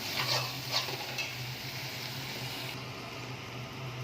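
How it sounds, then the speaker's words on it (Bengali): Spice paste with salt sautéed in oil for chicken kosha: a low steady sizzle with a few sharp spatula scrapes against the pan early on, close by, no one talking. "মশলাটাকে ভালো করে কষাবো যতক্ষণ না তেল ছেড়ে আসে"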